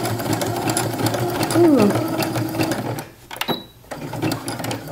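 Sewing machine stitching elastic, a close, fast mechanical whirr running for about three seconds, then stopping briefly before resuming, with a person's brief exclamation.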